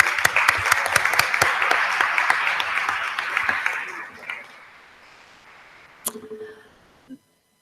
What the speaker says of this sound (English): So one last round of applause for our board.